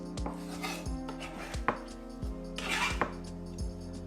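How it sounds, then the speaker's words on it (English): A knife chopping cabbage and vegetables very small on a cutting board, with a steady run of crisp, close taps and a few sharper knocks, no talking. "Just cut it up very small, like this."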